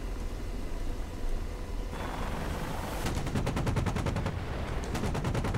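Rapid cannon bursts from an AH-64D Apache's chin gun during a test fire in the DCS combat flight simulator, loud evenly spaced shots in a fast steady rhythm over a constant rotor and engine drone, with no talk.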